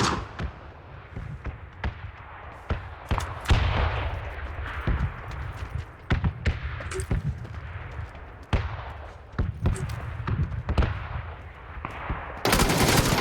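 Gunfire in the PUBG video game, on the Sanhok map, comes as bursts of rapid automatic shots and single sharp cracks, loud and close, repeating irregularly with short pauses between.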